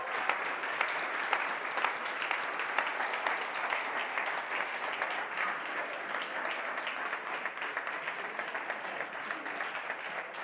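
Sustained applause from an audience at a startup accelerator demo day, a steady dense wash of many hands clapping that runs continuously throughout with no talk over it.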